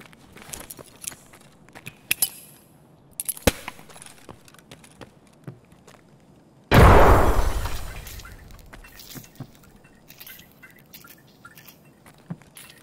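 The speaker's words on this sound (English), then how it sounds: "the speed at which lamps flicker after there is a nade blown nearby was changed" A grenade blows up nearby in Escape From Tarkov: a sudden loud, booming blast that rolls off over about two seconds, with scattered small clicks and knocks before and after it.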